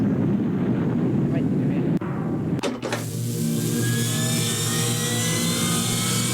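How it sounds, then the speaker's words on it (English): A video game missile explodes: a low rumbling roar follows a sharp burst, then a steady droning hum with tonal whine lingers for several seconds, loud and close. "Cool noise it makes when it blows up."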